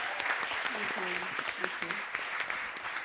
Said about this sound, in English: Can we have another massive round of applause for Turning Point?